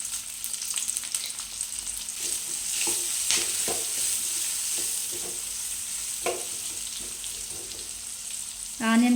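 Cumin, mustard seeds, a pinch of turmeric and thinly sliced onion fry in oil, crackling and sizzling up close while a spoon stirs and taps the pan, with a steady hum in the background.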